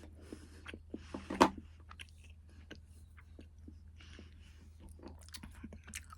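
Foraged hazel catkins being chewed close up, with soft irregular bites and one sharper crunch early on, faint and without talk.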